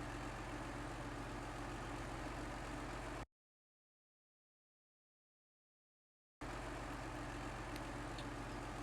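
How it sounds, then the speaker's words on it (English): A truck engine idling in SnowRunner: steady low rumble, constant and loud, cutting out to total silence for a few seconds before resuming unchanged. "stop that engine. It's so loud."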